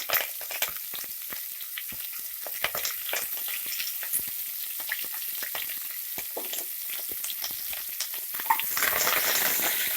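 Onion and curry leaves fry in hot oil in a pan for vangibath sambar, a close crackling sizzle with dense pops and spatters that thickens into a fuller hiss near the end, with no voices.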